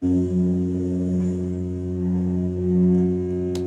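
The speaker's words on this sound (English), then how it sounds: "This is the projector motor hum." A movie projector motor gives a steady, low mechanical hum with layered droning tones, slightly swelling and easing in loudness, continuous and close, with no voices.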